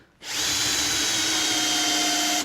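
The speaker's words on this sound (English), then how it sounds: "Now I'm going to drill a pilot hole down the middle here." A power drill bores a pilot hole down the middle of a piece of wood during a camper van build, giving one continuous, loud, high whine that starts abruptly and holds steady for about two seconds.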